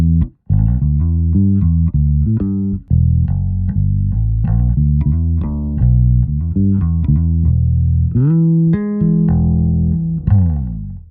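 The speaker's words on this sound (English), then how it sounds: "Straight away, I think this is a really nice jazz bass tone with flat wounds." Joe Dart JD2 signature bass guitar with flatwound strings and a warm jazz tone, lightly compressed, playing a melodic line of round, deep plucked notes with some slides, loud and clear with no talking.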